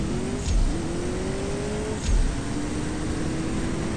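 Mustang HPE750 race car in the mobile drag-racing game CSR2 accelerating hard, a steady engine drone climbing in pitch through quick gear shifts, with two brief thumps at the shift points.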